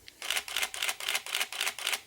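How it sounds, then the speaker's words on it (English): A Nikon D5000 DSLR shutter fires in a quick burst at about 4 frames per second: about seven crisp clicks evenly spaced, close up. "the maximum frame rate is 4 frames per second, which sounds like this."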